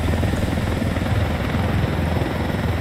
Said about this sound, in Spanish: Vale, tenemos un helicóptero.